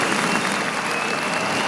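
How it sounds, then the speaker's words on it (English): Studio applause sound effect triggered from a button during a live gaming talk stream, a steady dense clapping crowd filling the whole short clip at even loudness with no talk over it. "I'm hitting that button over and over again. The applause is still coming."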